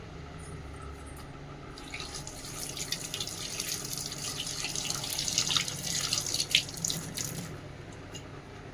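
Tap water runs into a kitchen sink while something is washed, a soft continuous hiss that grows louder and splashier midway, with occasional clinks, and no talking.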